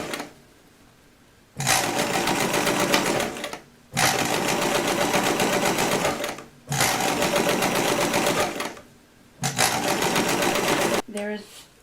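A sewing machine sews a seam on sculpted costume animal feet in four loud, steady bursts of roughly two seconds each, separated by short pauses, with a brief handling rattle at the end.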